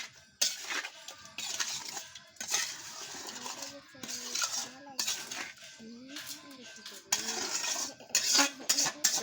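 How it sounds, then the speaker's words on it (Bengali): Spices being mixed into meat and potatoes in a pot for cooking on a clay stove: metal spoon scraping and clinking against the pot in irregular bursts, fairly quiet, with someone talking between and over the stirring. "পুরো মশলাটা একসাথে মিক্সড করে নেবো"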